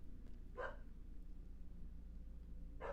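A pet dog barks indoors, two short sharp barks about two seconds apart, over a steady low room hum.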